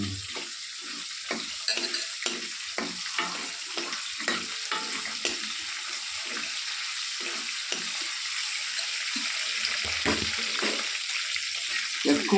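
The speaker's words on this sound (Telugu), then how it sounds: "ఇది ఎలా వేగింది అనేది చూసుకోవాలి" Food fries in oil in a pan with a constant close hiss, broken by regular scraping stirs and soft thuds throughout.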